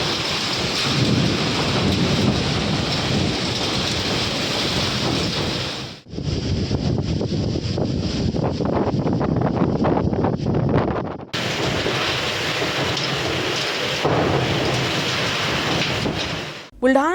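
Heavy unseasonal rain pours steadily in Buldhana, a dense roar with rumbling thunder and gusts of wind buffeting the microphone, loud and continuous with a couple of brief dips.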